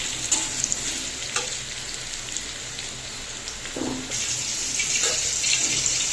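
Yam (ol kochu) frying in a pan nearby until reddish, a steady hiss with occasional scraping stirs and soft clinks.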